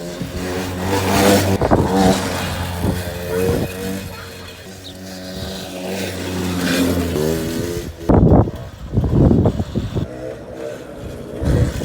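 A Suzuki LT50 motorbike engine starts and revs up and down in repeated bursts, loud and close, before a few sharp knocks and bumps near the end.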